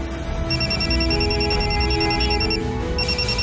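A phone rings with a repeating high electronic tone that pauses briefly partway through, loud and close over a low steady background, with no talking.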